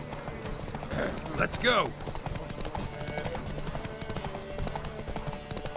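Horses gallop in a Witcher 3 Wild Hunt race, their rapid clip-clop hoofbeats running steadily throughout while a voice shouts briefly near the start.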